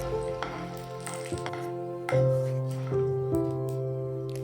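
Lentils sauté in hot oil for lemon semiya upma, a soft steady sizzle broken by a few clinks and scraping stirs of a utensil against the pan, with no talk.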